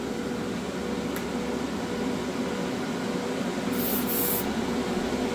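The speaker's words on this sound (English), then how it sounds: "we're just going to go ahead and spray something" An airbrush sprays rubbing alcohol with a steady hiss throughout and a low motor hum underneath, a brief high-pitched burst of stronger hiss near the end.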